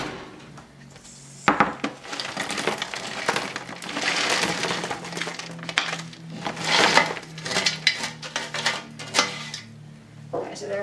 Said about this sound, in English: And take the trays out.